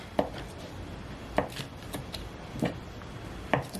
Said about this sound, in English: the cubing of the butter doesn't have to be perfect